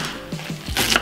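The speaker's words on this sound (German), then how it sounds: "Und zwar nehme ich für die Füllung einfach Frühlingszwiebeln und die schneide ich ja, grob einfach runter." A knife chopping spring onions on a board for a grilled squid filling, a few quick close cuts in a short burst with no voice.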